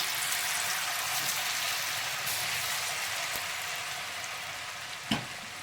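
Potatoes sizzling steadily in a hot pan for potato fried rice, a dense continuous frying hiss with a single sharp clack near the end, no talking.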